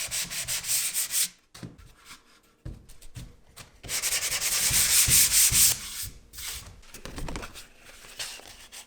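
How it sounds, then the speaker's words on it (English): Sandpaper rubbing along the edges of wood-veneered panels on a portable Bluetooth speaker enclosure, bringing them flush; close, scratchy strokes come in bursts separated by short pauses. "I sand the edges to make them flush with the panels."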